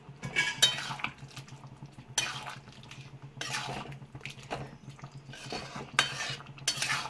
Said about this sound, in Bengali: এবার হালকা নাড়াচাড়া করে নেব।